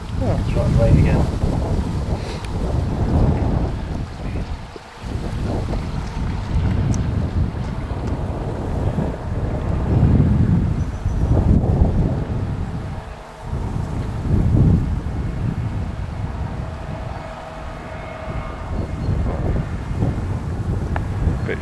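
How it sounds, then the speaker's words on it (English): Strong wind at Cabin Lake buffets the microphone in heavy, rumbling gusts that swell and drop throughout, with occasional voices faintly underneath. "It's very windy."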